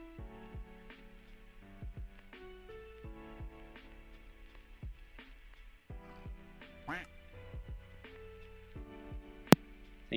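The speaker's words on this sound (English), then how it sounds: "Thank you for the good luck quack." A duck quack sound effect plays on a Twitch stream, a short nasal quack standing out once over game music and background sounds, with no talking.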